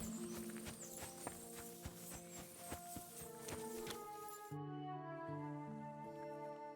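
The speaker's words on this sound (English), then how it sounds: "Lovely horses you have here." Rhythmic hoof clip-clops of horses walking in the video game Kingdom Come: Deliverance II, heard over a steady musical background, with no talking.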